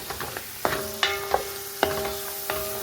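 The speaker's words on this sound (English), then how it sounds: "I'll let this saute around" Onion powder sautéing in a potjie pot, a soft steady sizzle with several sharp metallic scrapes and clinks of stirring spread through the stretch, close and fairly quiet.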